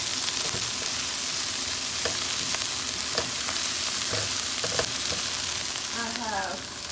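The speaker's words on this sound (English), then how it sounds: "And I put 3 cloves of garlic in here. Toss that around. Let it get warmed up for about 1 minute." Three garlic cloves frying in a pan at the start of a beef steak red chili, a steady, fairly loud sizzle with small crackles and faint clinks from stirring.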